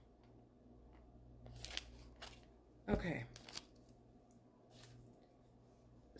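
Scissors snip near a table during a budget shopping-haul unboxing, a short crisp cluster of cuts standing out over quiet room tone, with a brief spoken word before it.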